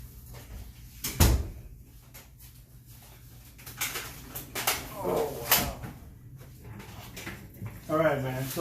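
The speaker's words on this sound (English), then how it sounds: "Let me go ahead and close the door." A door swung shut with one solid thump near the start, followed by people talking casually nearby.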